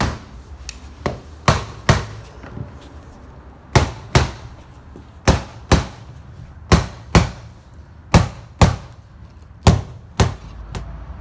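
Sharp mallet taps seating a Marvin window mull flush, a dozen or so crisp knocks arriving in loose pairs and singles at irregular intervals, close and clear over a quiet background.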